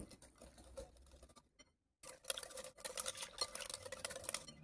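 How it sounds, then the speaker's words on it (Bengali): Powdered sugar being mixed into cake batter in a bowl, with quiet stirring and tapping, a brief pause, then busier, louder scraping and clinking strokes close by. "গুঁড়ো চিনিটা এখানে খুব ভালো করে মিশিয়ে নেব।"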